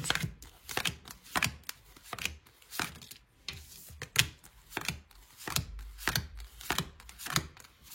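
A deck of tarot-style cards being cut and handled on a table, giving a steady run of sharp, crisp snaps and slaps roughly every half second, close and fairly quiet, with no talking.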